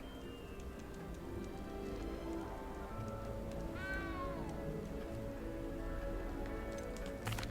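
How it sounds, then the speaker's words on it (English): A cat meows once, mid-clip, in the video game Hogwarts Legacy. The short, rising meow is fairly clear above a steady, quiet patter of rain. "Who is meowing?"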